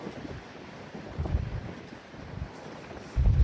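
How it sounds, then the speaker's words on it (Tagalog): Strong stormy wind in the cold of a Canadian March, roaring and buffeting a microphone in uneven gusts, with heavy low rumbling surges near the middle and again at the end. "Sobrang lakas ng hangin."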